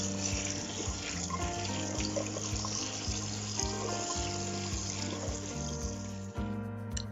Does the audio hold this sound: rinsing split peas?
yes